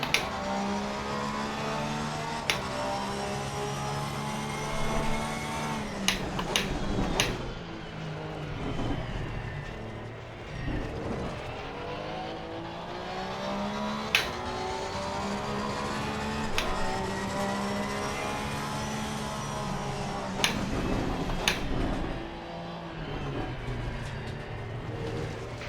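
Race car engine in a sim racing game at the Zolder circuit, revving hard and steadily through the gears with brief lifts and sharp shift blips, loud and continuous.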